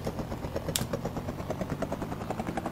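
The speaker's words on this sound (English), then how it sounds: "Why do I have to wait at least 2 seconds for the helicopter to take off?" Helicopter in the Amiga game Rescue spins up its rotor for takeoff, a quiet, rhythmic chopping pulse of thumping beats with a brief bright click near the start.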